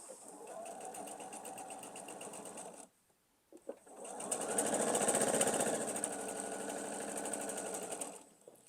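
Sewing machine stitching a quilt block, a close rapid mechanical whir in two runs, a short burst then a pause with a few clicks, then a longer steady stretch.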